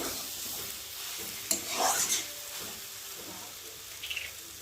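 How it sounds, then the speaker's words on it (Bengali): Water is splashed into a pan of frying banana flower curry, giving a short hiss and sizzle over faint stirring scrapes, fairly close and quiet, with a brief spatter near the end. "অল্প করে জল দিচ্ছি দেখো"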